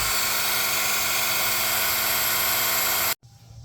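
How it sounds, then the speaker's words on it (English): Vevor 3-in-1 electric car jack motor raising a tire, a steady high whirring drone running loud and unbroken for about three seconds before cutting off abruptly into quiet. "push this up button, it'll jack your tire up"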